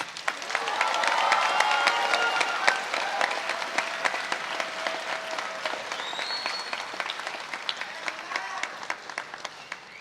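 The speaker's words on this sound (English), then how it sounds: "Please, let's give them a round of applause." Sustained round of applause from a graduation audience for the seniors of Middle College High School's 2025 ceremony, dense and steady for about ten seconds with a few scattered cheers in a large hall.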